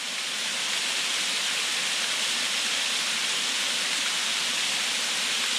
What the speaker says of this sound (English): That may not be the biggest waterfall we see today, but it sure is a pretty one.